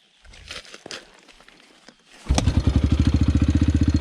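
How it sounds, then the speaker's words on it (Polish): A Yamaha TTR 125L motorcycle is started by hand: a few scuffs and clunks, then the engine catches and settles into a loud, close, rapid steady putter. "to można odpalić motor ręką"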